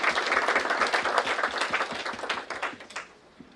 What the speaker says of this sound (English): Let's give a round of applause for our LPM partners.